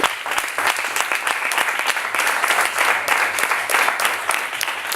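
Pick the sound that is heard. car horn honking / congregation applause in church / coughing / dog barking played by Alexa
congregation applause in church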